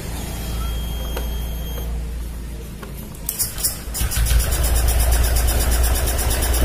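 A fuel-injected motorcycle engine with its air filter removed idles roughly and unevenly, then is revved up into a louder, steadier running roar, close and strong throughout.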